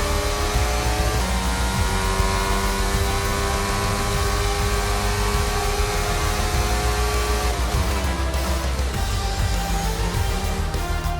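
Formula 1 car in F1 22 cruising back after the Bahrain Grand Prix at Sakhir, a steady engine whine with shifting pitch lines and revs rising and falling, loud and continuous with no speech.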